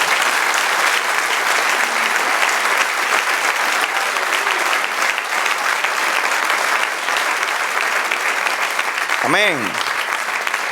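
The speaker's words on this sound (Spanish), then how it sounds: "Dale un aplauso al Señor." Church congregation applauding loudly and steadily throughout, a sustained dense clapping with a voice speaking over it and a brief rising musical swoop near the end.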